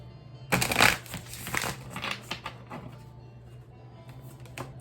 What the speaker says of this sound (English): Feeling 2 more shuffles and we'll get it.